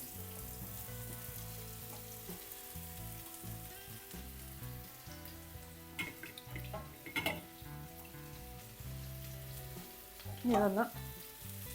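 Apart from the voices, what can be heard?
bitter gourd frying in coconut oil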